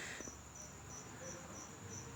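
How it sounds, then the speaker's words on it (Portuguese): A grasshopper chirps outdoors in a steady, faint, pulsing trill that repeats evenly throughout, with no voices. "a festa que o gafanhoto tá fazendo"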